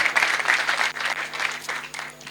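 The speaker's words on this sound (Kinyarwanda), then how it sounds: "amashyi menshi cyane" Steady applause from a crowd of guests at a Rwandan wedding ceremony, dense and fairly loud throughout with a brief dip near the middle.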